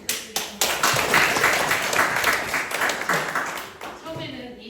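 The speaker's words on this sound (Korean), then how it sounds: "박수 부탁드리겠습니다." Audience applause at a graduation ceremony for a horse-interpreter training course, a thick, sustained wash of clapping with voices mixed in, starting with a few distinct claps and easing slightly near the end.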